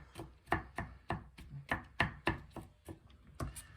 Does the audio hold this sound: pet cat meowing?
no